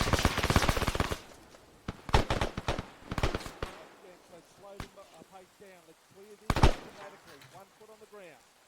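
Gunfire in the military shooter Arma 3 during squad training, with rapid bursts of automatic fire and several sharp single shots, loud and close at times, while players talk over radio between volleys.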